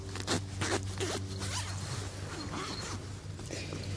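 Zippers on a Physport mosquito hammock are pulled in a run of quick, close rasping strokes, each a short bright zip, over a low steady hum.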